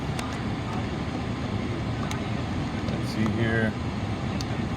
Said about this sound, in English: The motor sounds good. It revs up nice, but it does have a steady misfire.